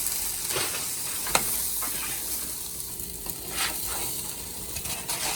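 A chicken and cheese quesadilla sizzles steadily in a hot pan, with a few sharp scraping ticks from a spatula as it gets flipped; the frying hiss stays even and fairly soft throughout.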